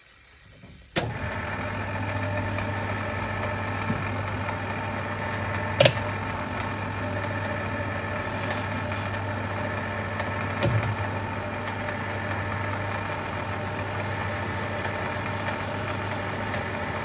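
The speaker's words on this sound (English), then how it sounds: "I'm running the lathe at 210 RPM with a 130mm diameter piece of aluminium." A metal lathe turns a 130 mm diameter aluminium workpiece at 210 RPM, giving a steady low hum with faint machine tones that runs throughout, broken by a few brief clicks.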